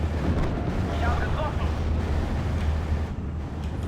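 Loud, continuous rumbling explosions from an air strike called in during a World War II style war video game battle, a heavy low roar filling the whole stretch with layered blasts and wind-like noise.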